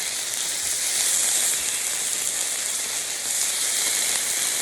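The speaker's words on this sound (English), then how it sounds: "We gotta flip our steak." A steak sizzling in a hot pan as it is flipped, with shrimp and pork belly cooking nearby, a loud, continuous hiss that crackles like rain and surges slightly partway through.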